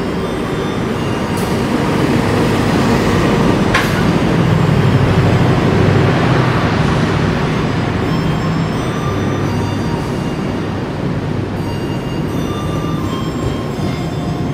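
A passenger train of old executive coaches hauled by a CC201 diesel locomotive rolls past close by as a loud, steady roar of wheels and rail rumble with faint squeals, continuous for about fifteen seconds.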